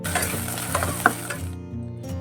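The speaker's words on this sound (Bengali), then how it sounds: "এই আলু আর ডিম দিয়েই বানাচ্ছি চাউমিনটা" Chowmein stir-fried with potato and egg in a hot pan, bright sizzling with scraping stirring strokes and a sharp clink near the middle before the frying noise thins out at the end.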